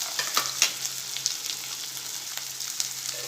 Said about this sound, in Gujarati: હવે આપણે કોબીજ અને ગાજર અને ફ્લાવર એડ કરી દઈશું અને થોડી વાર સાતળી લઈશું